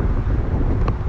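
Strong wind at Pali Lookout, a high viewpoint where gusts shoot up from below, buffets the microphone with a loud, low, continuous rumble over a brief span, with no talk.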